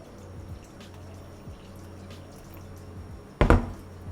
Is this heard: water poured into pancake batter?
yes